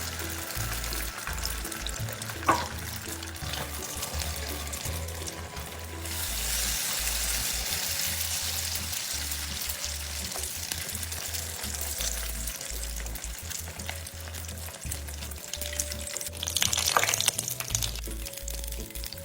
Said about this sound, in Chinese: 一直油炸至表面金黄色后即可离火。